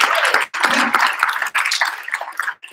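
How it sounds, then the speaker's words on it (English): An audience applauds at a Three Minute Thesis championship with dense, close clapping that runs in a few bursts separated by brief gaps. "Let's give a round of applause for everyone just for being here tonight"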